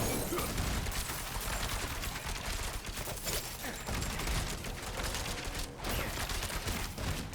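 Rogue's Rapid Fire skill in Diablo 4 as a steady, dense barrage of rapid projectile shots and impacts, loud and continuous without pause, with no talk.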